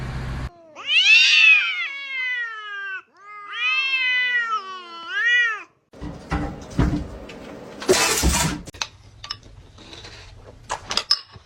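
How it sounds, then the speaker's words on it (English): A kitten gives two long, high, wavering meows up close, followed by rustling, thumps and handling noises. "Look at this little kitten."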